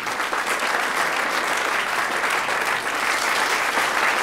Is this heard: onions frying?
no